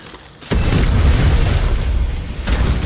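A thrown grenade explodes in the Far Cry 6 video game, a sudden loud boom after a brief quiet lead-in, followed by a rumbling tail and a second smaller burst near the end.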